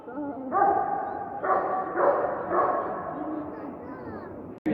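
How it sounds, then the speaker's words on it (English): Police dogs at a dog fair bark in a handful of short, loud bursts spaced about half a second apart, heard nearby in a large indoor hall with a murmur of crowd noise underneath. "Alright, I'm watching the police dogs."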